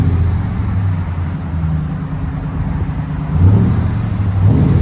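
Engine note from a 2012 Ram 1500 SLT 4x4 with a 5.7-liter Hemi V8 and Magnaflow dual exhaust, a steady loud rumble that swells twice into short revs near the end, close to the microphone.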